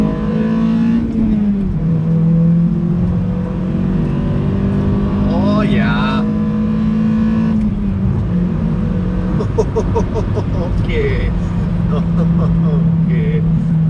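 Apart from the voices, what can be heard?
Mazda Skyactiv car launching and accelerating in first gear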